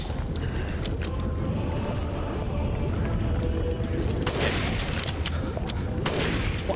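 Gunshots fire in the survival horror game Resident Evil Village, a few sharp cracks spaced slowly apart near the end, standing out from a dense, rumbling game soundscape with no talk on top.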